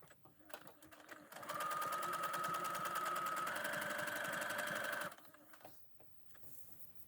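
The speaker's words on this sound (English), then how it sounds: "This is a straight stitch with a Maraflex thread, much stretchier." A sewing machine runs a straight stitch on stretchy French terry fabric with Maraflex thread, giving one steady whirring, rapidly ticking burst of about three and a half seconds, close and fairly quiet, framed by faint handling sounds.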